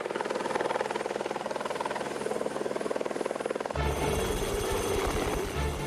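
Helicopter working in the French mountains for a family helicopter company, a steady loud rotor chop throughout that grows closer and heavier partway through, with no voices.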